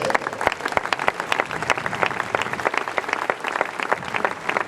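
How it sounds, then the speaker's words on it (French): A church congregation applauds during a service, dense continuous clapping from many hands, close and steady with crowd noise, some voices mixed in. "Pendant qu'il avance, on acclame pour le Seigneur."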